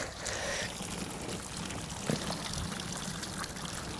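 Tap water runs steadily onto freshly dug peony roots outdoors, a soft continuous splashing pour close by, alone without talk.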